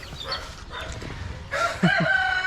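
A rooster crows close by in a backyard flock of chickens sheltered indoors from days of rain, a single loud call rising near the end after a stretch of quieter rustling and faint background clucks.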